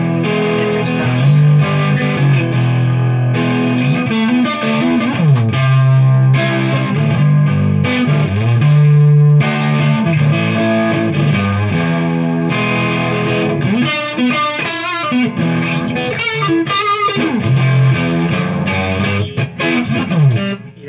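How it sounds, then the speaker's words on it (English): A heavily distorted electric guitar through a Marshall Vintage Modern 2466 amp plays loud, sustained chords and riffs for a long stretch, with a thick, crunchy overdriven tone throughout. "It's just great for those good cranked up Marshall tones from the late 60s"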